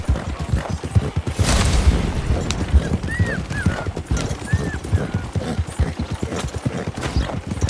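A horse gallops through snow in Red Dead Redemption 2's winter endurance race, rapid rhythmic hoofbeats with short whinnies over them, close and steady.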